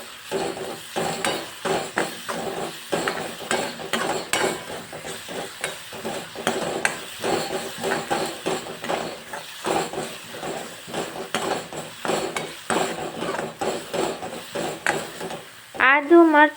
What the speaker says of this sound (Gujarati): આદુ મરચાં અને લસણની પેસ્ટ એડ કરશું એને પણ આપણે ગોલ્ડન બ્રાઉન સુધી કૂક કરી લેશું